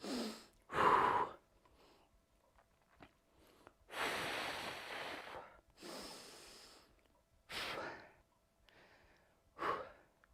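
Heavy rhythmic breaths during a timed breathing exercise; five or six loud close exhalations and snort-like inhales in bursts about two seconds apart, with quiet gaps between.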